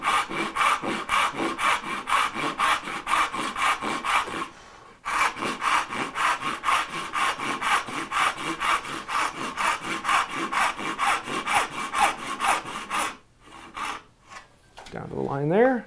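A hand saw cuts an angled dovetail in wood with steady, rhythmic push strokes, loud and close, pausing briefly twice before resuming.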